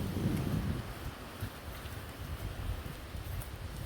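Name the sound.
strong wind in the garden trees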